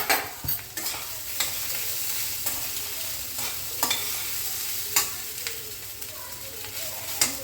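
Soaked sago and crushed peanuts being stirred in a pan for Maharashtrian sabudana khichadi, with a spoon scraping and clinking at irregular intervals over a steady close sizzle.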